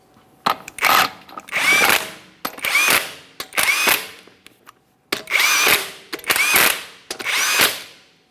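Impact tool bursts tightening six lug nuts on a 2017-2023 GMC Acadia wheel: seven loud, separate ratcheting whirs, each about half a second to a second, with short gaps between and no talking.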